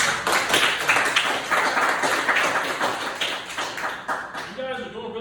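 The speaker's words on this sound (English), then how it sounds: "clap it up for everybody that shared" A room of middle schoolers at an identity workshop clap together in a lively, fairly loud burst of many hands that carries on steadily for several seconds before thinning out, with a faint voice near the end.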